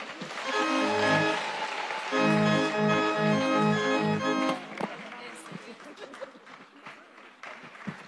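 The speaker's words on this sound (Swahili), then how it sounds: "Ongeza makofi tena." Audience applause during a church blessing from a bishop at a KKKT church in Arusha, a sustained burst of clapping beneath loud amplified voices and music before fading into scattered claps.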